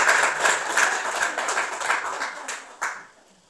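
A church congregation claps together indoors in a lively burst that thins out and stops after about three seconds.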